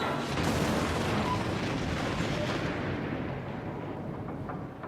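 Booming naval gunfire and shell impacts from a cruiser battle in World of Warships, a dense, continuous rumble of heavy blasts that stays loud throughout and eases slightly toward the end.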